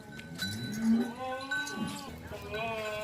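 Goats bleat on a farm stall, a young buck around eight to nine months old among them, with wavering calls rising and falling over steady background chatter and people talking nearby.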